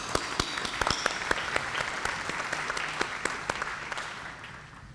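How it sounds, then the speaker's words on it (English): Audience applause at a town meeting, a modest room of people clapping with distinct individual hand claps standing out from a softer wash, fading slightly toward the end. "round of applause for them"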